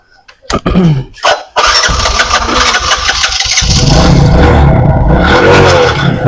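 A used Bajaj motorcycle at a large motorcycle fair in Chuadanga is kicked into life after a couple of short tries, then settles into a loud, steady running engine note close by.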